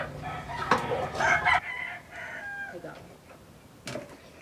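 Chickens cluck and a rooster crows on a farm on a warm day as they are chased about, with loud bursts of squawking early on and a fainter call near the end.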